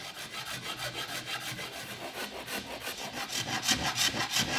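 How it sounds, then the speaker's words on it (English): A coarse saw rasp chamfers the front edge of a scrapwood ship's wheel, its steady rhythmic strokes rasping close and loud with no speech. "I use the coarse side of the saw rasp to establish the first chamfer."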